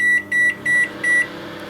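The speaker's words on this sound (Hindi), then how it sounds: "अब हम इसे डालेंगे माइक्रोवेव में, और सिर्फ हमने इसको 3 मिनट्स देने हैं।" Microwave oven cooking a lava cake gives four evenly spaced electronic beeps over a steady, close hum from the running appliance, and the hum continues after the beeps stop.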